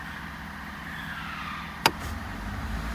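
A 2023 Ford 6.7 Powerstroke diesel fitted with a BD high idle kit rumbles steadily at idle; a sharp click sounds, then the low engine drone swells as it climbs toward high idle, with no voices.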